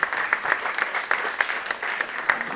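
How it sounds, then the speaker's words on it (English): A crowd at a live webcast event claps for a guest. The applause is dense and close, with quick, uneven claps all through. "Let's give him a quick round of applause."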